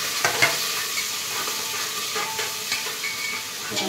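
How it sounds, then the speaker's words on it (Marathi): Onions sauté in a pan with curry leaves, giving a steady close sizzle punctuated by occasional stirring knocks and scrapes, with no one talking. "सगळं परतून घ्यायचा कांदा"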